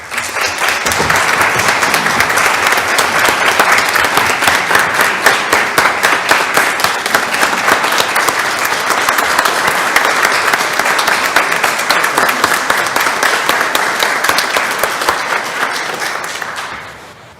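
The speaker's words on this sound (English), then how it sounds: "give them a round of applause for their efforts and continued efforts to" Steady, sustained applause from an audience at a North Carolina APCO/NENA chapter meeting in High Point, honoring 911 staff for their mental health efforts; dense clapping runs about sixteen seconds before tapering off at the end.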